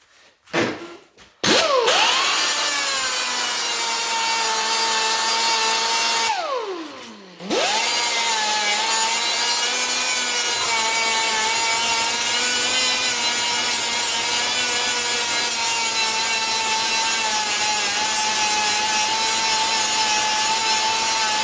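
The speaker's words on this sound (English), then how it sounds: "I'm just grinding into it a little tiny bit" An angle grinder spins up and grinds steadily on welds in sheet metal, a loud continuous whine, briefly dropping off and winding back up near the start.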